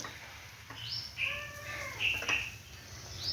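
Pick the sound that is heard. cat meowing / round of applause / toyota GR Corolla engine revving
cat meowing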